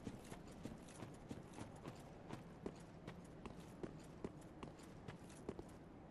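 Ominous heavy footsteps sounding from somewhere above in the dark fantasy game Dark Souls 3: faint, steady thuds repeating at an even walking pace over a low hiss.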